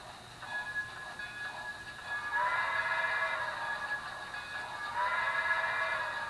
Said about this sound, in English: a 280 consolidation steam locomotive pushing a gondola with a miniature camera